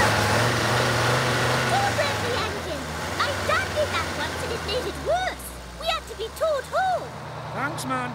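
Cartoon fire engine revving and straining while stuck, a steady low engine drone throughout with cartoon voices talking and exclaiming over it.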